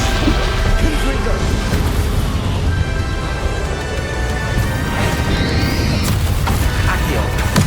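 Confringo blasting spells explode in Hogwarts Legacy during a battle against Ranrock, loud continuous crashing booms and bursts layered over the fight with a rising whine near the end.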